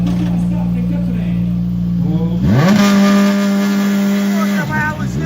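Skoda Fabia rally car at a Sinaia hill-climb start, its engine idling in a steady drone before a sharp rev climbs into a loud sustained high-rpm hold, then drops away, with a voice talking over it.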